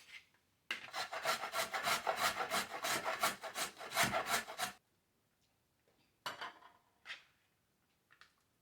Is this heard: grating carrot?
yes